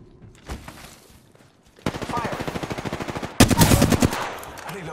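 Rapid automatic gunfire from Flatline and R99 weapons in Apex Legends, two sustained bursts of fast, even shots, loud and close, with a brief pause between them and a sharper second burst.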